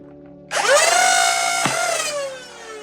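A Nerf Stryfe blaster spins up its flywheels with a sudden rising electric whine, a single sharp shot cracking through midway before the motor winds down, close and loud with no voices.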